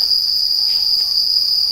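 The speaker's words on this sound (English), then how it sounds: "This is the whole JKUAT insect farm." Crickets at an insect farm give a loud, continuous, high-pitched chirping drone that fills the whole stretch without a break.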